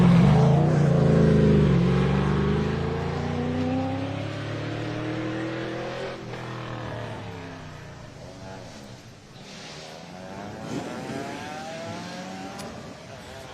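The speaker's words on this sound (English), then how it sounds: "He's in the 2002 Mazda Miata." A 2002 Mazda Miata revs through its gears at a hillclimb race, loud at first and then fading as it pulls away into the distance, with a voice talking over it.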